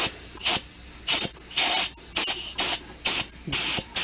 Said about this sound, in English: I found a way to get this dirt out of here. Air compressor.